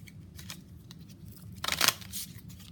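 A Thoth tarot deck being shuffled, heard as a quiet papery riffle with a brief louder burst of flicking cards near the middle, otherwise soft rustling with no talk.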